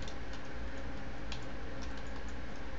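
Quick, faint taps on a computer keyboard in a short, irregular burst while a word is typed, close but soft over a steady hiss.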